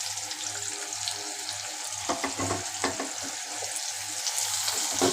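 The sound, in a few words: onion paste frying in a pan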